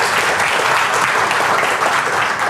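An audience at a talk claps together in a dense, steady burst of applause, loud and close, with no voices over it.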